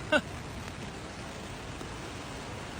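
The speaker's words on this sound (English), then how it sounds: "It is just pouring down rain." Heavy rain pours onto an umbrella at Manly Beach in Sydney, a dense, steady hiss that stays even throughout, with one brief louder tap near the start.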